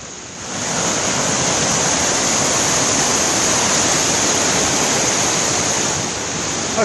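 A waterfall on the hiking path up Cadair Idris roars in a steady, dense rush of falling water, close and loud, fading in over the first half second and holding unbroken with no voices.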